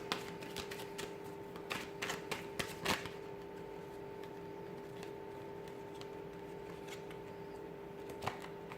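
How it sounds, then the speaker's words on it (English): Tarot cards are shuffled in quick bursts of soft riffling clicks, busiest early then thinning out, over a faint steady hum with no talking. "So we'll give the cards a shuffle"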